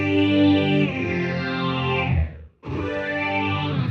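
A distorted, synth-like guitar tone through a BOSS SY-200 synth pedal sustains a held chord, cuts out briefly, then rings again, dry and upfront with no reverb or echo tail.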